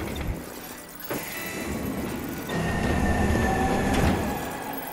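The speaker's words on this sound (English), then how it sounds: "The train's leaving soon." Video game train rumbling and clattering as it pulls away, wheels squealing faintly and a steady mechanical drone building, moderately loud with no voices.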